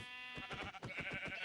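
Sheep bleating in the Minecraft video game, a few quick wavering bleats in close succession, loud and clear with no talking over them.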